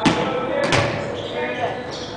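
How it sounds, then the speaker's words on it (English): A volleyball bounces on a gym floor during a partner warm-up drill, giving two sharp thumps, one at the start and one just under a second later, while a voice talks over them. "you step with your left foot and bounce the ball"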